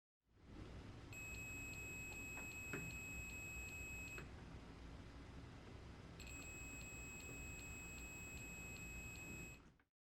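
Two long, steady high-pitched electronic tones from a multimeter continuity test on the wires of a Nesco American Harvest food dehydrator. Each tone lasts about three seconds and is clear and close, with a short silent gap between them.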